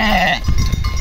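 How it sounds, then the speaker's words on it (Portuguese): Young goats bleat in a short, loud, wavering cry up close on a farm, followed by a jumble of shuffling and rustling as the animals climb away. "Vão aqui os cabritinhos subindo aí tudinho."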